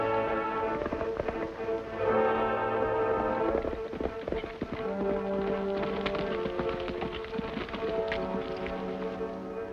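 Horses gallop with hooves clip-clopping steadily, mixed under busy dramatic orchestral music in a classic western series.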